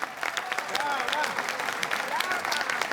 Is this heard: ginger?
no